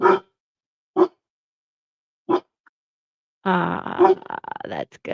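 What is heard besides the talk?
dog barking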